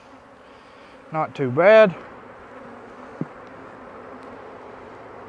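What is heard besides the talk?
honey bees coming out of the hive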